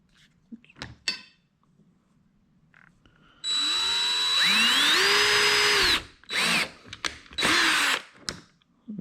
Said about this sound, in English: I'm using a 1/4-inch drill bit.